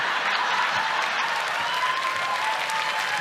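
A studio audience cheers and applauds during a talk-show segment, a steady, dense wash of clapping that stays loud and even throughout with no voices above it.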